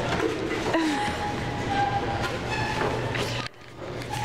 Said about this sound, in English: It's a new train.